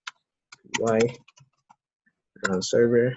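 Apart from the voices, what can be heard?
typing on a computer keyboard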